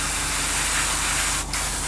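An airbrush with the trigger pressed down blows air only, no paint, while detailing a 1/32 scale Tamiya Mitsubishi A6M2b Zero model: a steady close hiss that briefly dips for a moment.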